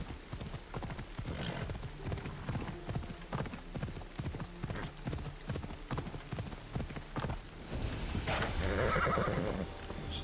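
Horse hooves clip-clop at a steady gallop in Assassin's Creed Odyssey, with a horse neighing and whinnying over the rhythmic beats, the sound swelling louder toward the end.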